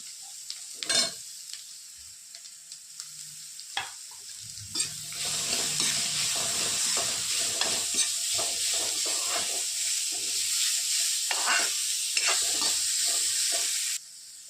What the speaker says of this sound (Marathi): आता मी टाकत आहे गाजर फिटलेला हे पण मी थोडंसं परतून घेणार आहे